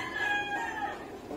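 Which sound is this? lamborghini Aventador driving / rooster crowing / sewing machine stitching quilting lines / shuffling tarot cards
rooster crowing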